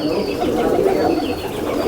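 Soft, low cooing of a Saharanpur flying pigeon, continuous and fairly close, with a murmuring throaty quality and faint background noise.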